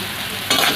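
Chira pulao fries in a pan with a soft, steady sizzle that brightens into a sudden louder hiss as sugar goes in, close up, without a voice.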